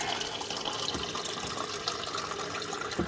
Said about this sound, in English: Fill the cup.